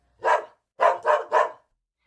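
A dog barks four times close by, one single bark followed after a pause by three quick barks in a row, loud and alone in otherwise quiet surroundings.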